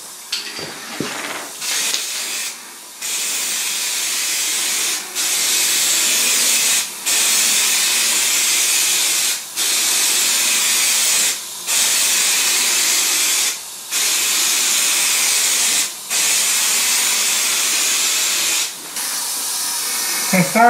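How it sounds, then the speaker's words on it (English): An aerosol can sprays primer onto the bonnet of an Opel Kadett, a loud steady hiss in long bursts broken by brief pauses roughly every two seconds, close and alone. "Starting the second coat of primer now and going on to the third can."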